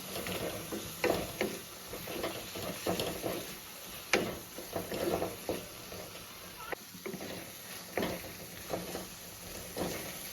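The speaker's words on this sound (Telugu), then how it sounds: "బాగా కలుపుకోవాలండి" Gongura and coconut chutney mixture being stirred and mixed by hand in a bowl, a run of soft, irregular scraping and squelching strokes, close and fairly steady, with no talk.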